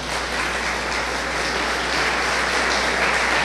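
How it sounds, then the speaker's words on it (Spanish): A church congregation at a Sunday service breaks into steady, dense applause that holds evenly throughout, loud and filling the room with no voices over it. "Dele un fuerte aplauso al Señor."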